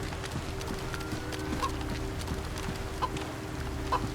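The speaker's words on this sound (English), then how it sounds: "I hear chicken." A chicken clucks faintly in the DayZ video game, soft short clucks scattered over a steady outdoor ambient drone with light footstep-like clatter.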